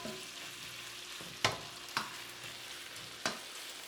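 Pork riblets frying in a pan, a quiet steady sizzle with a few sharp clicks as the pieces are moved, close up with no voices.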